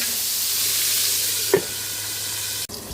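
Dried marinated milkfish (daing na bangus) frying under a lid in a covered pan gives a steady, muffled sizzle, broken by one soft knock midway and a sharp click near the end.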